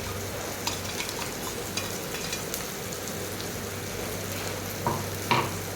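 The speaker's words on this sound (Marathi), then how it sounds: "आता आपल्याला हा मसाला पूर्ण मिक्स करायचा आहे" A thick spice paste with peanuts sizzles gently in a pan for a bitter gourd dish as a spoon stirs and scrapes through it, with occasional sharper taps against the metal.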